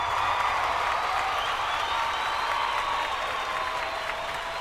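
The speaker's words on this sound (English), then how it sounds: "let's clap it up for him for real" A crowd applauding a late actor, steady dense clapping with a cheering wash, held at an even level throughout, with no individual claps standing out.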